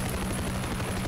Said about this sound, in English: as I hear a heli in the back